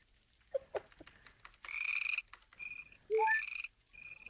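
Frogs croaking in a few short calls and two louder raspy bursts, fairly close, with scattered faint background noise and no talk.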